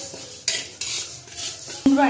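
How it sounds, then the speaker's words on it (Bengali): Mung dal being dry-fried with salt in a pan over low heat, a spoon scraping and clinking against the metal in several close, distinct strokes with a soft background hiss. "মুগ ডাল পুরো লবণ দিয়ে পুরো ধিমে আছে মুগ ডালটা সুন্দর করে ভেজে নেবে।"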